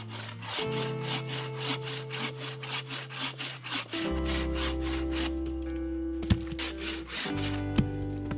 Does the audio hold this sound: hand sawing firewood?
yes